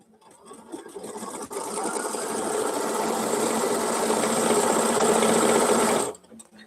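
A home embroidery machine stitches out a design on a magnetic SEWTECH hoop, running as a loud, steady, rapid mechanical whir for about six seconds before it stops abruptly.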